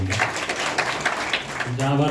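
Crowd clapping at a political party gathering in Parner, rising into a fuller burst near the end, with voices mixed in throughout.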